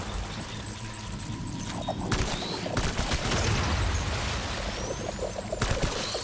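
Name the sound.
gunfire in the video game Death Stranding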